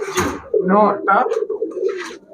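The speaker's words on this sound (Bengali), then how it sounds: "এটা রাজশাহী গিরিবাজ" A Rajshahi Giribaj pigeon coos close by in loud, throaty, warbling bursts, several coos running together in quick succession.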